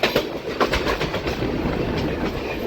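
A MEMU passenger train rolls steadily along the rails with repeated clickety-clack wheel beats over a continuous rumble, close and fairly loud, no voices.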